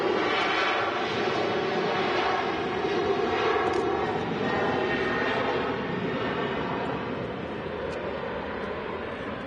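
A Jet2 Airbus A320neo at Manchester Airport gives off a steady, loud engine roar that fills the whole stretch without a break. No voices are heard.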